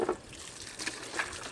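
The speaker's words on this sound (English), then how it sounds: "put water in there." Water poured into an electric water heater tank that has been removed and had its top and bottom elements taken out, a soft, steady trickle and splash lasting about a second and a half.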